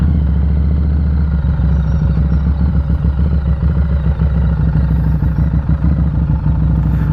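A motorcycle engine runs loud and close while the rider works the clutch and shifts down to first and back up to second, a steady low rumble with rhythmic pulsing and small shifts in pitch.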